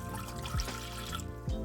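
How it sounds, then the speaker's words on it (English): A cup of water poured into a pot of vegan lemon jam with lemon zest, a quiet, brief trickle and splash of liquid close by. "So you're gonna put another cup of water in."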